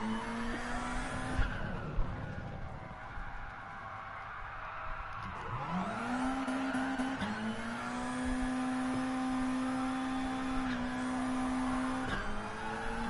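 Race cars lapping in Gran Turismo Sport, a sustained engine whine rising sharply after a dip and holding high revs, with brief drops at gear changes and faint tire squeal, loud and steady with no talk.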